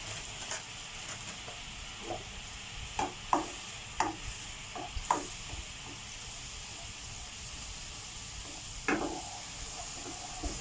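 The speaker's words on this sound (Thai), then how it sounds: "น้ำเดือดแล้วก็ใส่พริกแกงใส่" A pot of boiling water with curry paste bubbles with a steady close hiss while a spoon stirs, giving scattered light scrapes and taps throughout.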